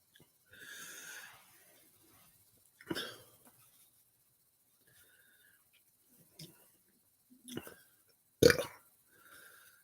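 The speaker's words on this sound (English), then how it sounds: "Keep burping." A person burps several times after eating the Paqui One Chip Challenge chip, short isolated eructations spaced apart in a quiet room, with faint breathy noises between.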